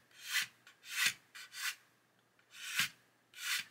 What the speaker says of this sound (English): I'm just gently sanding.